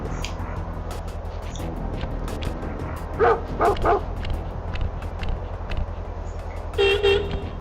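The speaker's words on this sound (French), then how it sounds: "Encore un chien." Several sharp dog barks in quick bursts from the video game Sly Cooper, then another short volley, over a constant low rumbling background with scattered clicks.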